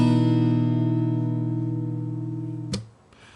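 A fingerpicked guitar lets a chord ring with open strings over a fretted low E, the notes sustaining and slowly decaying, then a short scrape or muted knock cuts the ringing near the end.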